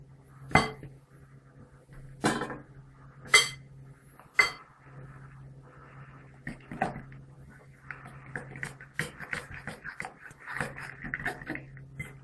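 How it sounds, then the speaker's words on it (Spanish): Utensils clink against a bowl while shrimp are stirred into a thick, lump-free batter for Spanish shrimp fritters, with sharp knocks near the start giving way to lighter, busier clinking and scraping. "Vamos a añadir los camarones."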